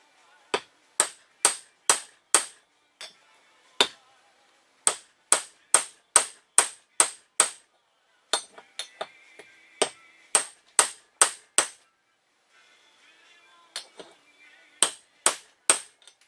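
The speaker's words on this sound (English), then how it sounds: "put that in on the outside edge and hit it in." A trailer hitch ball serves as a driver to hammer a rear wheel bearing seal into a 1986–1992 Honda 350 FourTrax, giving sharp metallic strikes in quick bursts of four to eight, with short pauses between bursts and light scraping sounds in the gaps.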